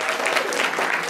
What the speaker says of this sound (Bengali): এদের প্রত্যেকের জন্য একটি জোরে করতালি।